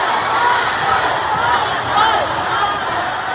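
A large concert crowd at a show in Manila cheers and shouts in a continuous roaring wash, steady from start to finish with slight swells in the middle.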